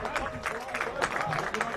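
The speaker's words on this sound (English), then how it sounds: "A goal-scoring start to his Preston career and a warm round of applause as Jason Romero leaves the pitch" A football crowd claps warmly as a player leaves the pitch in a Preston Lions versus Hume City match. The applause is dense and continuous over a short stretch.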